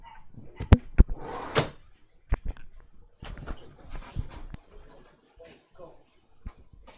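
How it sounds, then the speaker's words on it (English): A dog barks and lunges at a window indoors, a few sharp loud barks and thumps up close, with a person shouting over them and talking afterward. "My dog tried to break out the window"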